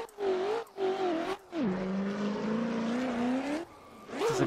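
Race car in a driving sim at Fuji, its engine note rising and dipping through a quick e-brake flick, with a sustained tonal whine and throttle changes, steady and close.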